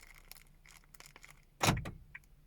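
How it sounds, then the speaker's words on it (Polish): A Toyota Auris locking, with a sharp, loud mechanical clunk of the central locking followed by a brief whir of the door mirrors folding in, then a small click, against a quiet background. "Teraz zamknę samochód."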